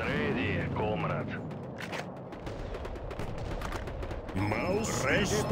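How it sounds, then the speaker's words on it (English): Soviet artillery and gunfire roar in a WWII real-time strategy game, with heavy booming shots and bursts of fire repeating across the stretch while a voice talks over the battle. "Listen roar of the Soviet guns."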